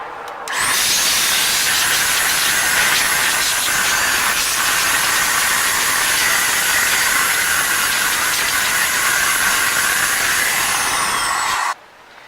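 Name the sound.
DataVac electric duster blowing dirt out of computer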